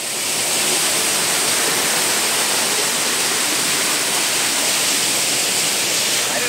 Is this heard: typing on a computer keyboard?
no